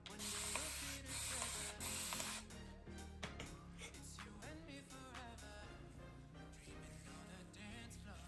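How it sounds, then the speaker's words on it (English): A spray bottle mists 4c hair during a wash-and-go styling routine, with a loud hissing spray burst at the start, then softer rustling and handling noises that carry on throughout. "I respray my hair."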